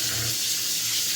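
Hot water pours in a steady hissing splash, continuous and close, filling the short moment without any voices.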